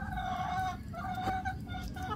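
Chickens clucking and crooning nearby as they eat, in a steady, murmuring chatter, with a few sharper clucks breaking through.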